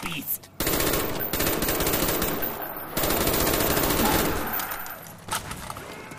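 Sustained automatic bursts from a Galil rifle in Call of Duty Zombies on Kino der Toten, loud and close, with rapid rattling fire in two long stretches broken by brief pauses.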